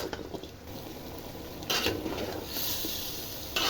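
Vegetables seasoned with turmeric, salt and ground coriander are stir-fried in a pan, a quiet sizzle with soft scraping stirs and brief louder bursts of frying.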